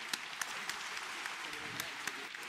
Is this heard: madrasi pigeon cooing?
no